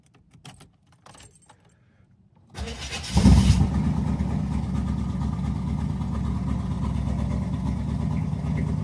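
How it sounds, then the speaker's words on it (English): A Small Block Chevy 350 V8 with a carburetor cold-starts after a timing adjustment: keys jangle first, then a brief cranking catches into a loud, steady, rumbling idle that continues without talk. "See how the carburetor likes the cold and if it wants to crank and get going."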